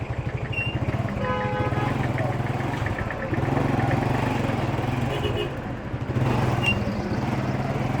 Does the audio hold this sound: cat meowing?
no